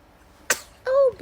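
A baby gives a single quick, sharp sneeze up close, followed a moment later by a short voiced sound.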